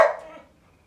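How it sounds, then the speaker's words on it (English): A single sharp dog bark, loud and close, decaying quickly into quiet. "when they start barking like this, now they're barking at me"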